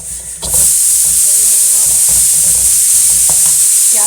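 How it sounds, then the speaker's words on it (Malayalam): Coriander powder stirred and roasted in a pan for kadala curry, a steady broad sizzle and hiss with soft scraping stir strokes close by, continuous and fairly loud throughout. "ഒന്ന് നല്ലപോലെ വരട്ടുക."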